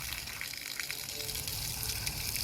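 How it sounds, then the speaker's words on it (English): A steady hissing spray of water beats against a rusty cast weight plate during restoration, a continuous close-up rush of liquid with no pauses or voices. "I give that one a spray down."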